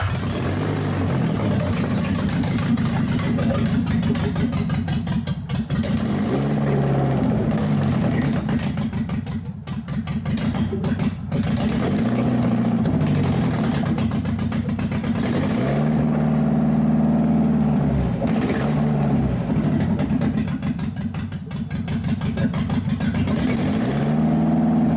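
An Alfa Romeo 75 1.8 ie engine runs with its exhaust removed, a loud, raw, continuous drone with slight rough fluctuations and brief dips in pitch, close by and dominating throughout.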